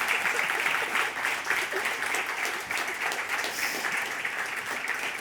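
Steady audience applause from a tech conference crowd, a continuous dense patter of many hands clapping throughout with no voices over it.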